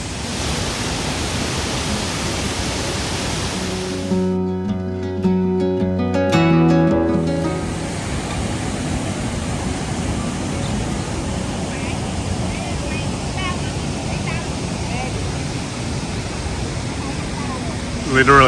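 Steady broadband rush of a waterfall, loud and continuous, with a brief stretch of tonal humming or voices partly breaking through near the start before the even roar resumes.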